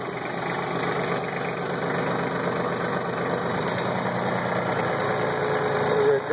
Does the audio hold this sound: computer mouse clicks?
no